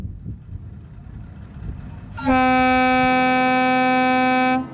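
After a quiet stretch, a loud train whistle sounds one long, steady, piercing blast lasting a couple of seconds near the Maule River in Chile, then cuts off.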